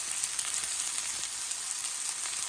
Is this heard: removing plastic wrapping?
no